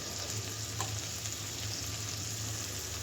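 Onions and dried loitta fish fry in a pan with a steady, close sizzle and crackle that runs unbroken throughout, with no voices.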